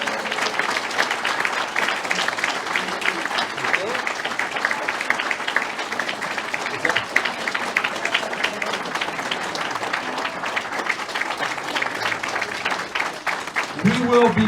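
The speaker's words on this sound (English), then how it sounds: "I think they deserve a round of applause for all their support" Sustained applause from banquet guests honouring the hotel wait staff at a national show awards dinner in Gettysburg, Pennsylvania, a steady dense clapping that fills the room for the whole stretch, with crowd noise and some voices mixed in.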